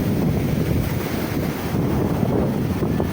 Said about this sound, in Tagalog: sobrang lakas po ng alon makakalablab ayan po napakalakas ng alon